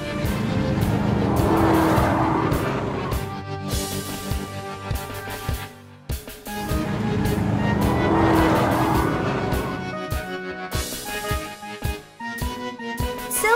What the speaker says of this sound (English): Silver race car.